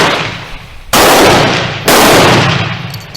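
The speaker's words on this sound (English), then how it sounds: "I got a guy shooting right next to me" Two loud, sharp gunshots from a shooter firing right beside the listener at an outdoor shooting range, roughly a second apart, each cracking abruptly and then decaying slowly with a rumbling tail.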